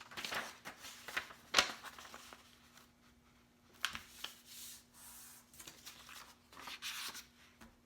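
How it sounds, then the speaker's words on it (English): Sheets of paper being folded in half by hand for a homemade card, giving soft rubbing and crinkling rustles with a few sharper creasing snaps, fairly quiet and close, with no talking. "Fold one of the pieces of paper in half."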